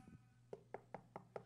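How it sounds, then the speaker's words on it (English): Five evenly spaced knocks on a door, soft and fairly muffled, preceded by a faint tap or two. "I stand at the door and knock"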